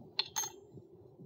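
A metal washer is dropped onto a bolt while fitting hydraulic brakes on a Coleman CT200U-EX trike, giving two quick, close metallic clinks in a row, then quiet.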